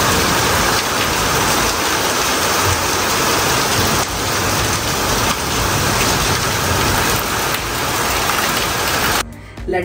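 Heavy rain pours down in a dense, continuous roar that stays loud and even from start to finish, with no voices.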